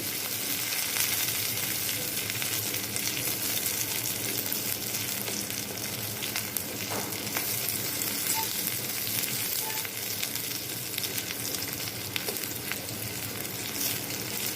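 Onion, garlic, cumin seeds and dried chillies fry in hot oil, giving a dense, even sizzle that hisses on without a break for the whole stretch, close and moderately loud.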